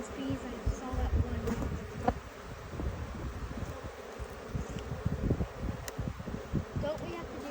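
Honey bees swarm and buzz loudly around an open hive during a beginner inspection, a dense close drone with rustling frames and bumps, while people talk over it.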